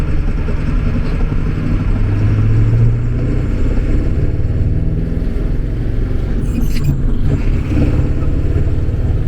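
A Ford 7.3 Powerstroke diesel truck fitted with a KC300X turbo drives along, its engine droning steadily and close with a brief rise in revs partway through, and no one speaking.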